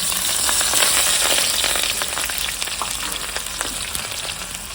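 Onions hit a hot pan and fry with a bright, crackling sizzle, loud at first and then settling into a steady spitting hiss with scattered pops, close up and with no talk.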